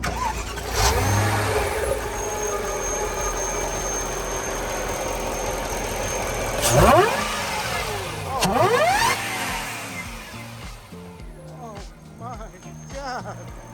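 A supercharged 2006 Mercedes CL55 AMG (C215) V8 converted to a six-speed manual idles with a deep rumble, then blips its revs sharply twice, the revving rising and falling, while people talk over it.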